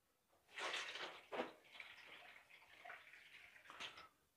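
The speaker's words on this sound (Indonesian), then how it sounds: "Sekarang kita tuang airnya." Water poured into a pot for boiling ketapang leaves, a soft, steady splashing stream that swells and ebbs over a few seconds, close and fairly quiet with no talk.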